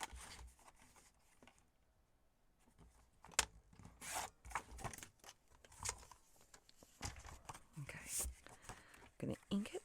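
Scissors cut through paper in a few short rasping snips, quiet and close, while crafting a junk journal door flip; soft handling rustles fill the pauses.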